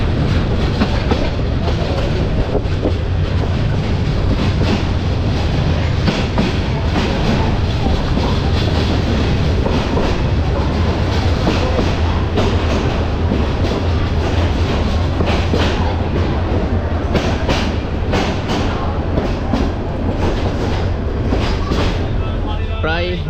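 The Jayantika Express runs from Dhaka toward Sylhet, a steady loud roar of wheels and carriages with rhythmic clatter heard from inside the train throughout, with voices mixed under the din.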